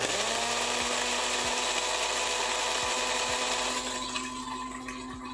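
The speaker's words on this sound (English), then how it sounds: "Well, that's the coffee grinder." An electric coffee grinder grinds beans fine for espresso, giving a loud, steady, harsh whirring drone that runs for about four seconds before easing off slightly.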